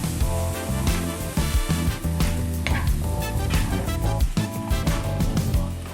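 Thinly sliced steak sizzles steadily in a pan over medium-high heat, a continuous loud frying hiss with a tonal background running underneath throughout.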